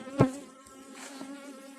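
Close, steady honeybee buzzing with a sharp loud burst near the start, then a continuous droning hum, from an unusually aggressive hive.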